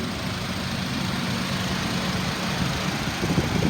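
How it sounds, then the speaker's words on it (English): A 2005 Acura TSX 2.4-liter four-cylinder engine with 112,000 miles idles steadily with a low, even rumble and slight roughness, close up, with no voices. "It idles smooth, revs up nice."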